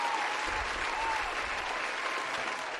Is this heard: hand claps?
yes